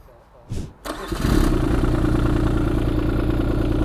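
A Kubota U10 mini excavator's three-cylinder engine cranks, catches and settles into a steady, loud idle that runs to the end.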